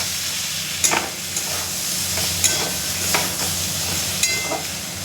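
Raw pumpkin pieces and grated coconut sizzle and hiss steadily in a hot pan, with a few scraping stirs of a spatula coming at intervals, close up and without any voices.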